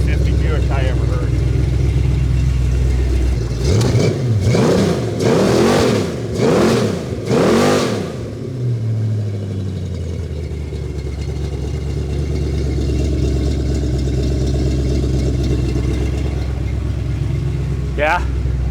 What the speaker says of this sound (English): that does not sound like any stock 350 Buick I ever heard